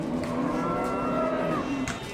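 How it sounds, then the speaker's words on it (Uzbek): A female Holstein cow moos in one long, loud, sustained call at a livestock market in Jizzakh, with a steady bustle of market noise behind it. "Urg'ochi, Golishtayn menimcha bu."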